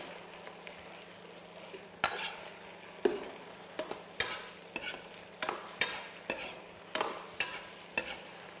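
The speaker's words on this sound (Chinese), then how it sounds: "炸好的虾倒入锅中，裹上味道浓郁的鱼香汁儿" Fried prawns tossed in a wok with thick fish-fragrant sauce, a faint bubbling sizzle broken by a regular series of sharp spatula-on-wok scrapes and clacks, close and without speech.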